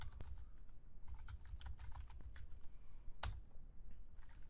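Fast typing on a computer keyboard while entering code in SQL Developer, with a quiet run of irregular clicks and one harder key strike partway through, close and alone.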